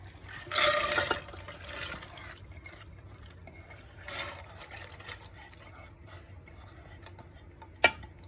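Water and lentils pour into a pressure cooker in a short splashing burst, a smaller pour follows later, then a single sharp click near the end.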